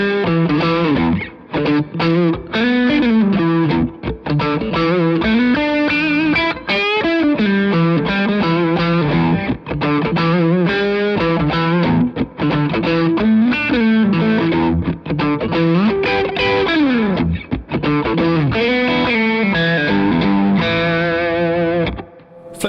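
A Fender American Pro Series electric guitar, Jaguar or Jazzmaster, plays a lead line through heavy distortion with a chorus-like shimmer. Sustained, singing notes and quick phrases run continuously and loud, alone without talk.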